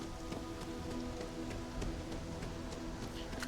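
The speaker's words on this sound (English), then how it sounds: "It's raining." Rain falls steadily in the video game Starfield, a soft, continuous patter of drops on surfaces at a low, even level.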